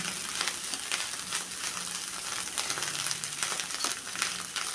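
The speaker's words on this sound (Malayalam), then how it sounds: "കുറച്ച് വെളിച്ചെണ്ണയും കൂടി ഞാൻ ചേർത്ത് കൊടുത്തിട്ടുണ്ട് കേട്ടോ നന്നായിട്ട് ഇങ്ങനെ പൊട്ടിത്തെറിച്ച് നല്ലതായിട്ട് മൊരിഞ്ഞ് വരാൻ വേണ്ടിയാണ്" Clam meat fries in coconut oil over a high flame, giving a steady, close, crackling sizzle with frequent popping spatters throughout.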